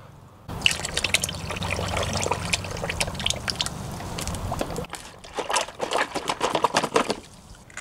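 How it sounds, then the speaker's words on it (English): Liquid is poured into a van engine with a close, gurgling glug that runs for several seconds, then breaks into uneven drips and trickles. "This does not look like something I would normally want to pour into my engine."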